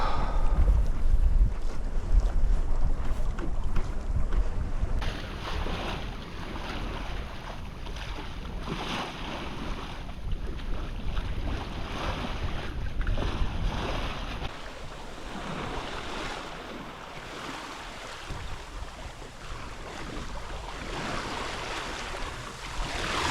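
A sailboat slices through open water on a sunny November day, its wake bubbling and hissing steadily behind the hull, with broadband wash and wind noise buffeting the microphone throughout.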